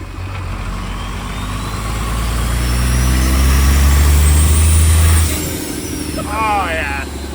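A limousine with a swapped-in Cummins diesel engine accelerating, a deep loud rumble that rises and holds for several seconds, then drops away, with a short voice and a whistling whine near the end.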